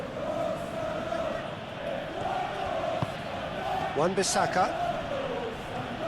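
Football stadium crowd in PES 2021 during a simulated Premier League match between Wolverhampton and West Ham, a constant murmur that swells briefly into cheering, with a commentator talking over it.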